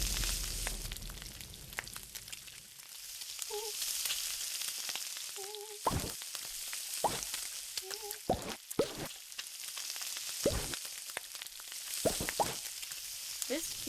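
Food sizzles in a pan in the cooking video game Beastro, a steady frying hiss broken by sharp clicks and tapping hits, with faint speech-like blips in the mix.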